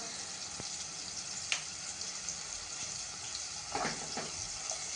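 Water goes into sizzling masala in a pan while cooking a ridge gourd curry, giving a steady soft fizzing and bubbling with a few sharp splashes and clinks.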